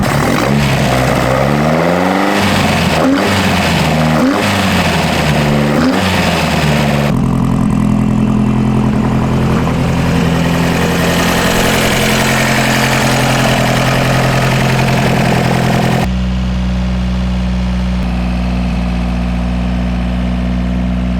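Rebuilt Toyota Hilux engine running on carburettors: a loud, close engine that revs unevenly at first, then settles into a steady idle that shifts pitch twice, with no talking over it.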